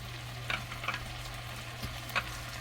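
Anchovies stir-fry quietly in a pan with a soft, steady sizzle, broken by a few light scrapes and taps as they are stirred.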